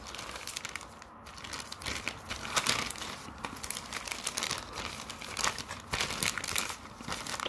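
Plastic packaging bags from an online cable order crinkle and rustle steadily as they are handled up close, with sharp crackles scattered throughout and no voices.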